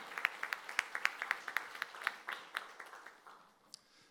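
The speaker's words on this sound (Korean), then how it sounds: "우리의 격려의 박수를 다시 한번 해주시길 바랍니다" A church congregation at a worship service claps in encouragement, sharp distinct claps at first in a fairly regular rhythm, then thinning into scattered, fading claps near the end, fairly faint overall.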